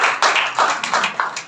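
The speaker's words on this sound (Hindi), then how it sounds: "बच्ची के लिए एक बार जोरदार ताली" A small group claps for a young girl, roughly half a dozen distinct, close, sharp hand claps in a quick, slightly uneven rhythm over about a second and a half.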